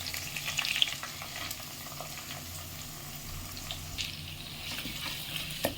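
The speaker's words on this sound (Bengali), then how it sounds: "এবার পেঁয়াজটা আস্তে আস্তে ভাজতে হবে।" Onions frying slowly in oil with green chillies in a pan for Bengali chicken kosha, a soft steady sizzle with occasional stirring scrapes, fairly quiet and close, with no talk.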